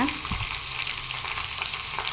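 Banana flower pieces for vadai frying in hot oil, a steady dense sizzle and crackle throughout, close and continuous with no voices.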